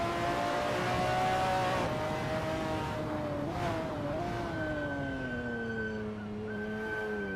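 A McLaren F1 GTR race car in a racing video game at Sonoma drives through a turn, its engine a steady, loud drone with tones shifting as it changes speed, no voices.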